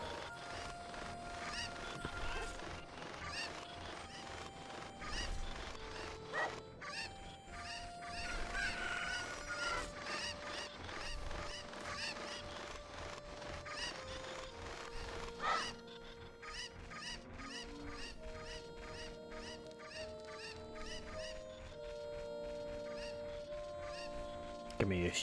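Cucco chickens cluck over constant game music in Zelda: Ocarina of Time on the Nintendo 64, with faint bird-like calls scattered under the steady melody and someone talking throughout.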